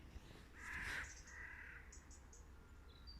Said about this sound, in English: I thought you might want to listen to the birds.